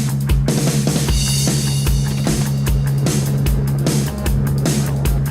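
A Z-Board 2 Blue electric skateboard rolls along with a steady motor hum and road rumble, broken by regular clacks and bumps as the wheels cross pavement joints.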